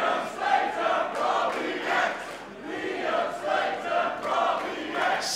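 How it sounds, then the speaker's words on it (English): A wrestling crowd splits between Liam Slater and Robbie X, with alternating rhythmic chants rising and falling across a large, loud audience. "Split crowd for Liam Slater and Robbie X."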